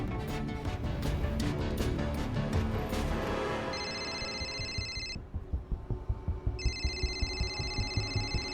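Phone rings in two bursts of electronic trills over a loud music score, with a short pause between the rings.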